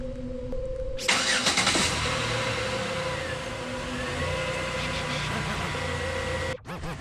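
A 2010 Chevy Impala engine starts and settles into a steady idle after a new oil pressure sensor is fitted, a close, continuous hum with a brief drop in level near the end.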